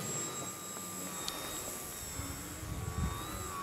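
A Super-E Venus 3D Pro model aircraft whines overhead with a thin, steady motor tone that rises slightly in pitch. It stays moderately distant under faint outdoor rumble.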